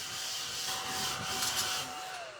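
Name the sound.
mini handheld vacuum cleaning table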